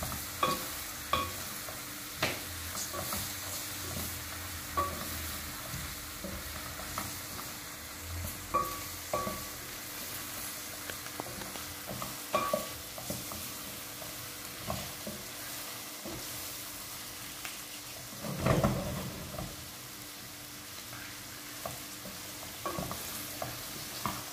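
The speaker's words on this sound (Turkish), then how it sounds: "unumuzu da koyuyorum. Unumuz da güzelce kavrulsun biraz." A spoonful of flour being roasted and stirred in a pan, a soft, steady sizzle broken by repeated scrapes and taps of the spoon, close and fairly quiet, with no talking.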